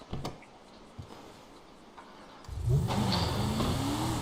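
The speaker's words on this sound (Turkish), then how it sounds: "Son gaz dağa doğru çıkıyoruz arkadaşlar." A black luxury car speeds up on a dirt road, the engine rising from a faint idle with light ticks into a loud, steady revving roar as it climbs toward a mountain.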